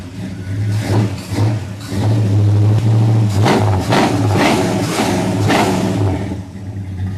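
A Toyota Supra engine, heard from behind the car, revs loudly several times over a rough idle, with clattering and rising and falling surges close by.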